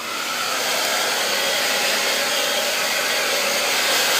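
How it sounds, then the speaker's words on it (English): A blow dryer runs on a Yorkie, a loud, steady high whir that holds evenly throughout with no voices. "See the blow dryer?"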